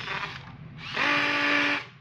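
A cordless hammer drill's motor spins briefly, then revs up to a higher, louder whine for about a second before winding down, heard close up with no talking.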